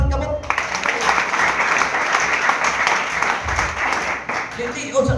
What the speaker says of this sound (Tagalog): palakpak ang kamot